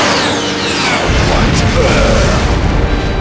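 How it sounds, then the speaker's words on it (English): A Massive Rasengan Mega Barrage attack in Naruto Shippuden Ultimate Ninja Storm 3 hits with a loud, sustained roaring explosion that rumbles heavily for several seconds, sweeping from a rising whoosh into a dense, booming blast. "Massive Rasengan Mega Barrage!"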